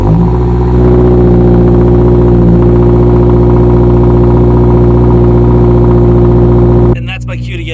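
A Subaru WRX or STI engine runs loudly and steadily at close range, a deep rumbling drone that cuts to quieter ambience near the end.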